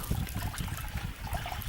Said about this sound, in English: I can hear water running.